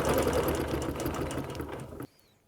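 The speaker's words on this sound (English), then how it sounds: "I want to stitch and stop right here at that 1/4 inch" A sewing machine stitches a quilt along a ruler-guided straight line, running in a steady, close, continuous whir for about two seconds and then stopping abruptly, leaving near silence.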